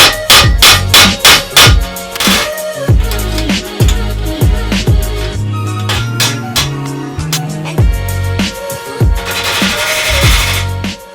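Hammer blows strike a part being knocked loose during bicycle disassembly, a series of loud, close metallic hits, rapid at first and then spaced out, ringing with resonant clangs.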